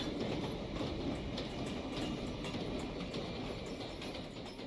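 A Minecraft recreation of a New York City subway train pulls into 57th Street station, a steady loud rumble of rolling rail cars with faint clicking, continuous and alone throughout.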